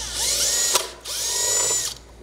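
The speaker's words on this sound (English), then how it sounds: "We're going to drill into" A power drill whines loudly as it bores into a plastic oil catch can on a 2018 Ford F-150, in two bursts with a short pause between, close up and steady in pitch.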